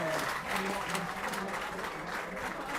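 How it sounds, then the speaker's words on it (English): Crowd at a Marine versus Radcliffe FA Trophy football match applauding in encouragement, a steady broad wash of clapping that lasts throughout, with faint voices mixed into it. "Applause of encouragement from Marine's newest forward"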